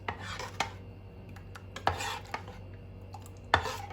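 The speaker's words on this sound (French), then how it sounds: "Je mélange bien." A spoon stirs honey scented with orange blossom water in a bowl, with light scraping and several sharp clinks of metal against the dish at irregular intervals, close up and unaccompanied.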